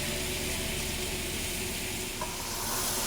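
Rice being stir-fried in a hot pan for fried rice, a continuous close sizzling hiss with faint scraping of stirring, no voices.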